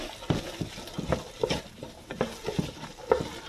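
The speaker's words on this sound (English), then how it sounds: "Just stir this." Celery and other vegetables for vegan chili being stirred in a pan, with a series of soft scraping strokes and light sizzling, fairly close and moderately quiet, no talking.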